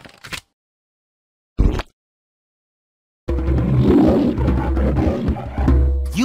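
A loud, sustained lion roar from the Play-Doh Seek and Squish game on Android, following two brief bursts of game sound separated by silence.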